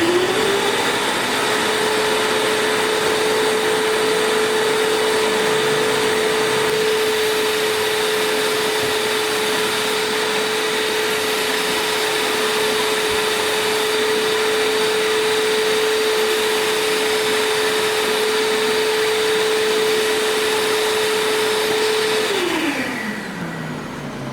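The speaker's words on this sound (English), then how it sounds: "I'm just going to turn the canister on, but I'm going to leave the switch on the hose handle off." A Prolux Storm shampooer canister vacuum for Rainbow E Series vacuums running with the hose handle switch off, a loud steady whine and whirring drone that holds even for over twenty seconds, then winds down at the end.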